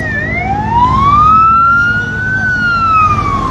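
An ambulance siren wails at a fire at Hazrat Shahjalal International Airport, a loud, close tone sweeping up and slowly back down over steady traffic rumble.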